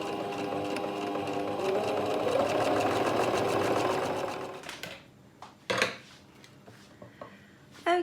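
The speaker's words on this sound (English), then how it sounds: "and then I'm just going to sew all the way around" Sewing machine running steadily as it stitches around the edge of a cloth storage bag for sanitary pads, a close, continuous whirring hum that stops midway, followed by sparse handling clicks and taps.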